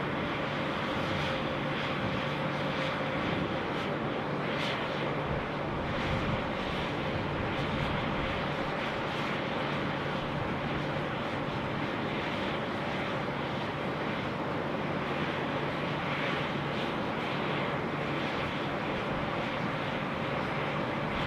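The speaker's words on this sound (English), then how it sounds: "We've also got the Qantas A330, which will be coming in to land." A Qantas Airbus A330 on approach to land at Sydney Airport gives a steady, distant jet roar that holds at an even level throughout, with no talk over it.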